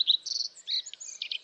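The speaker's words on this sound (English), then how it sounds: "Yeah, pretty simple chirp." A common redstart gives a short series of high, thin chirps, clear and close against silence.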